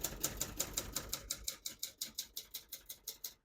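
Keys strike on a 1969 Adler J5 vintage portable typewriter in a quick, even run of about twenty crisp mechanical clacks, close and clear, with no voice.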